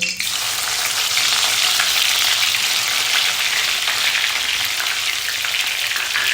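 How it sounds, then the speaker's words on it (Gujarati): Coriander stems hit hot oil in a pan at the start of veg Hakka noodles, producing a loud, close, continuous sizzle and crackle that holds steady throughout without any talking. "સૌથી પહેલાં તેલ ગરમ થાય એટલે એની અંદર આપણે બે ટેબલ સ્પૂન કોથમીરની દાંડી એડ કરવાની છે"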